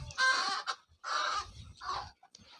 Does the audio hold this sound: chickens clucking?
yes